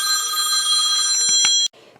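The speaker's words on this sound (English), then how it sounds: "if I'm doing a video, the phone will ring" An indoor telephone rings loudly and close for over a second with a steady electronic trill, then cuts off abruptly, leaving a faint room hush.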